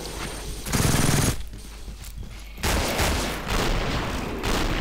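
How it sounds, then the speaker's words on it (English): Machine gun fire in the video game Killing Floor: loud, dense automatic bursts in two main stretches, separated by a quieter gap with faint background noise. "He's got a machine gun."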